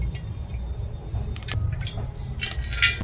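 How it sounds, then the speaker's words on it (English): Oil goes into a cooking pot with a few close, wet drips and small splashes, scattered and brief against a low background rumble. "I have my pot here. I'm going to go in with my oil."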